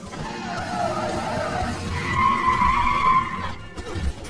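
Tires skid and squeal in a movie car chase as the transforming robot Barricade, in car form, pursues Sam's Camaro, with a rising screech over a dense rumbling mix of engine and effects.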